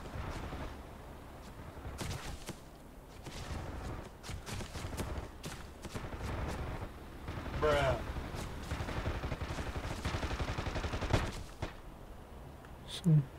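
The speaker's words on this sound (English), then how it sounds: "What are you guys shooting at?" Rapid bursts of gunfire in the DCS World flight simulator, a JF-17 cockpit scene with weapons firing in dense, crackling volleys. The shots come in irregular clusters over steady engine noise, with voices talking over them.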